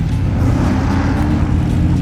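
A car engine revving hard during a burnout at a metal event, a loud, dense, continuous roar with no break across the whole moment.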